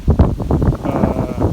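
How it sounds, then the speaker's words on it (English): Wind gusts across a fall vegetable garden, buffeting the microphone with a loud, rough, continuous rumble. "You can hear the wind, but everything's still growing"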